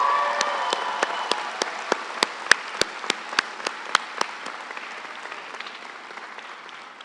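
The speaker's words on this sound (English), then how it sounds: "Would the graduating students please join me in another round of applause" Applause at a university commencement ceremony, a broad wash of crowd clapping with distinct close individual claps standing out, gradually thinning and fading away.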